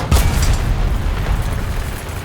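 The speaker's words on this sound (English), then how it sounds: "Did he just kill me with a HE round?" An HE tank shell exploding in War Thunder during a tank battle, heard as a loud, close boom with a sharp initial burst that settles into a rumbling, noisy tail, with no talk over it.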